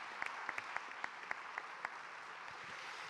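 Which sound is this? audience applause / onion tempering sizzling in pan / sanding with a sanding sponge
audience applause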